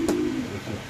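A pigeon from a pair offered for sale gives a single short, soft coo close by, brief and low against quiet background noise.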